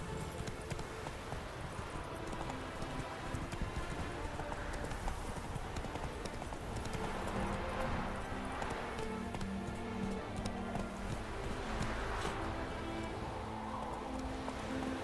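Horse hooves gallop in a steady, continuous clip-clop rhythm through the whole stretch in The Witcher 3, fairly close and moderately loud, with game ambience beneath and no talk.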